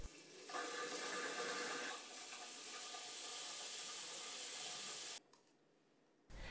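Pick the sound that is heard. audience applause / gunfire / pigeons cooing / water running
water running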